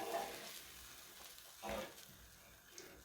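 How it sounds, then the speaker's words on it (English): Kimchi stew with bacon stirred in a pot: soft, faint scraping and sloshing with a low sizzle underneath, quiet and close, with no voices. "Give all that a good mix."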